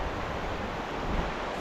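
The Lehigh River runs through its gorge with a steady, dense rushing wash, close and even throughout, with some wind buffeting the microphone and no speech.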